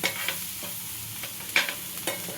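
Egg bhurji with chopped coriander is stirred in a hot frying pan, giving a steady sizzle broken by several sharp scraping strokes of the spatula, close and with no talking.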